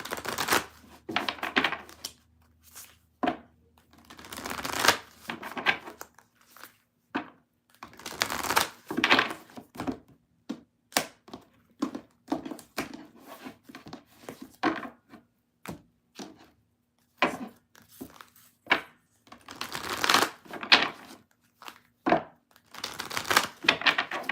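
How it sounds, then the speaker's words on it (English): Tarot cards shuffled by hand in repeated bursts of crisp riffling and tapping, close and fairly loud, with short pauses between rounds and no talking. "I'm going to shuffle"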